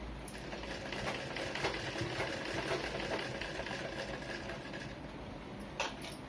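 A sewing machine stitches a blouse hook strip, the extra piece laid evenly against the blouse panel, running as a steady, continuous mechanical whir at moderate level, close by, with a brief bump near the end and no talking.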